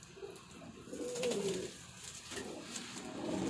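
Soft, low cooing of golden pigeons with red eyes repeats a few times, faint and close, over quiet background noise.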